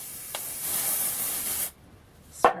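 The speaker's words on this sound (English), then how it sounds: "Spray it in." Dry shampoo sprays from an aerosol can onto hair in one long, steady hiss that cuts off abruptly, followed by a short second burst near the end.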